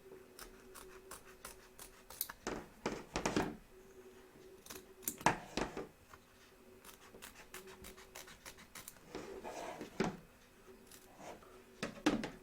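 Scissors snip around the raw edge of an embroidered Statue of Liberty applique freed from its hoop, giving close, quiet bursts of short cuts and scraping spaced through the passage, with no talking.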